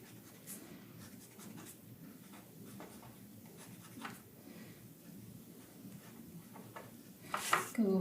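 A brown pencil scratches across paper in short, quiet strokes with small pauses, close and soft in a calm room, ending with a brief louder clatter.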